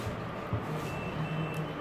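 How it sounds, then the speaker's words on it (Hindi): A digital multimeter's continuity beep sounds during a check of single-door refrigerator parts: a thin, steady high tone held for under a second over a loud, constant background hum, with no talking. "ये कंटिन्यूटी का साइन आ रहा है अपना, जहाँ पे वाईफाई वाला साइन होता है यहाँ पे बीप आती है।"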